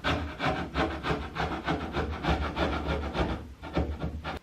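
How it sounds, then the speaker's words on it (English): Excess cured epoxy is scraped and chiseled off a wooden boat surface during rubbing strake work, a close, rhythmic series of rasping strokes repeating steadily without pause. "the excess epoxy was scraped and chiseled from the surface"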